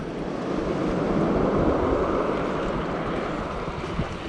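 Small waves wash and rush steadily against a double inflatable kayak on open water, a continuous close broadband surf with wind noise and no speech.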